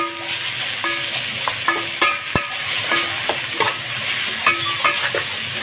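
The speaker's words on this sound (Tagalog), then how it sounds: "ito magluluto ng papaitan" Papaitan cooking in a pan, a steady sizzle and fry with repeated scraping and clinking strokes of a utensil stirring, close and fairly loud.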